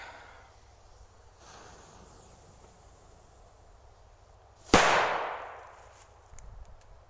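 A Colour Salute BP0038P firecracker goes off with a single sharp, loud bang, followed by a decaying rumble, after a quiet stretch of faint background noise.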